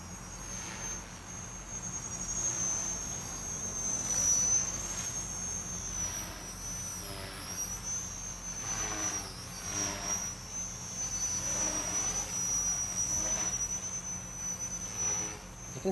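A Walkera Master CP flybarless RC helicopter with a stock brushed motor flies nearby, giving a steady high-pitched motor and rotor whine that rises and falls slightly throughout, with no talk over it.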